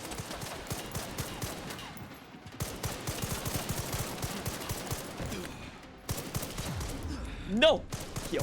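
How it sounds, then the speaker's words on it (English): In the Resident Evil 9 video game, machine gun fire comes in long rapid bursts, a dense rattling fusillade with brief pauses. The shots sit under a voice and rise into a louder outburst near the end. "Shit ton of machine gun."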